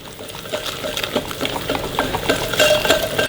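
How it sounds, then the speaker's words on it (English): Batter of frothy yeast liquid and flour for crumpets being whisked in a bowl, giving a busy, continuous scraping and clinking from the whisk against the bowl, close and fairly loud, with no talking. "And then we just whisk this all together until it forms a smooth batter."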